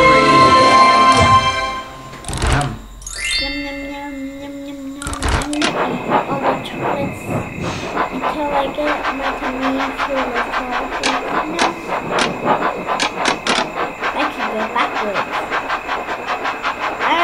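Cartoon train engine sounds in the Thomas & Friends Magic Tracks mobile game, with chuffing, whistles and chimes over steady background music, interrupted by short bursts of game effects while a person talks throughout.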